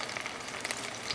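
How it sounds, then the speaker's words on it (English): Vegetables roasting in hot oil sizzle softly in a steady crackle, with faint pops scattered through the short stretch. "I hear sizzle. I know, we hear sizzle."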